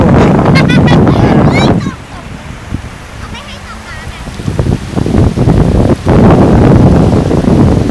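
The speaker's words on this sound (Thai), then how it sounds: "ตอนนี้ผมกำลังเดินลงทะเลครับ กำลังจะเปียกน้ำแล้วครับ" Waves wash against the shore with heavy wind buffeting the microphone, loud and close; voices are heard briefly near the start and end.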